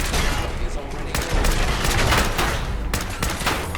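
Gunfire in Fallout 4 during a firefight, loud and close, with rapid overlapping shots and bursts running continuously.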